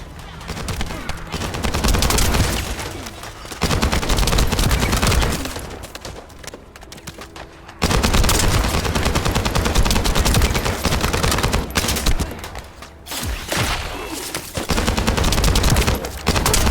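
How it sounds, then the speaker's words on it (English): Video game gunfire in The First Descendant comes as loud, dense bursts of rapid automatic fire. Brief gaps separate the bursts across the stretch. "That stopped the gunfire."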